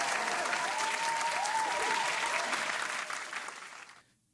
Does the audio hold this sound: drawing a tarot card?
no